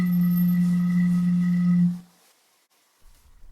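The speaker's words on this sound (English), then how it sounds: "just like you would blow over a bottle to make a sound like this." A breathy, hollow tone comes from blowing across the open mouth of a bottle. It holds steady at one pitch for about two seconds, then cuts off, leaving near silence.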